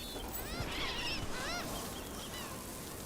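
Seabirds honk on a beach in Dragon Age: The Veilguard, several overlapping calls near the start and middle over a steady background of surf and ambience.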